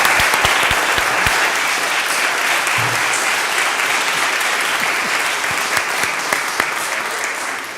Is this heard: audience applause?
yes